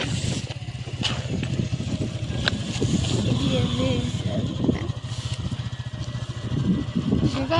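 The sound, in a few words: motorboat engine on water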